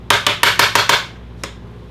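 A hammer bangs on a boat part in five quick, evenly spaced metallic strikes, close and loud, followed after a short pause by one lighter tap.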